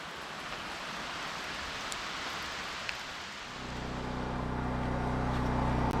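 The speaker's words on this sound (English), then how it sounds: "It's raining." Steady broadband hiss of rain, with a low rumbling drone swelling in halfway through, like a nearby engine or heavy downpour on a surface.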